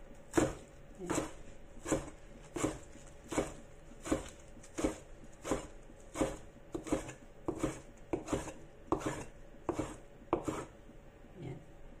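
A knife thinly slices a vegetable on a cutting board for a tapioca stir fry, making crisp, evenly spaced chops at a steady pace, close and fairly quiet.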